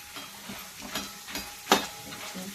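Roasted chana dal frying in oil while being stirred, a soft sizzle with a few scraping stir strokes and one sharper clink, quiet and close without talk.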